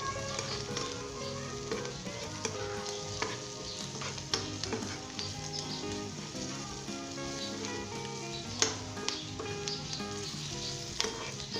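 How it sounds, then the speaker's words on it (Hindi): Spices frying with okra for a Punjabi aloo bhindi curry, a steady close sizzle broken by scraping stir strokes and small pops, with no talk throughout. "दोस्तों 1 मिनट के लिए हमने इसे फ्राई करना है।"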